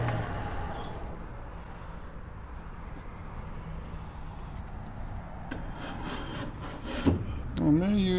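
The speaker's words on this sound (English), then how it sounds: "Let's try sanding it off." Sanding a black walnut urn on a lathe gives a steady, even abrasive rub that runs throughout at moderate level, and a brief voice cuts in near the end.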